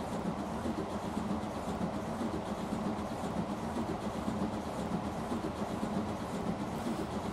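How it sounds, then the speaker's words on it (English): Freight train running in a train simulator game, a constant rail rumble with faint rhythmic clatter, steady and moderately quiet with no talking. "We're just riding along with our freight train, which is running quite nicely now."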